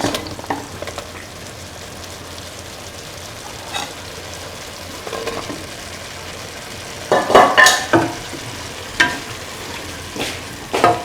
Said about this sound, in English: Mix the bottle gourd pieces nicely with the beef